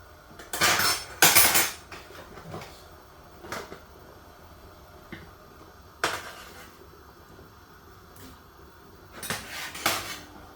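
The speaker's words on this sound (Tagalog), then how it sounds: "Lagyan natin yung banana at saka purple." Bananas and purple sweet potato are dropped into a cooking pot for binignit, giving scattered clattering knocks of utensils and cookware, a few louder bursts near the start and end, with no talking.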